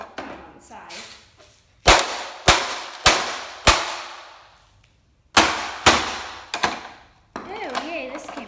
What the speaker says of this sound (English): Okay guys, more printer smashing.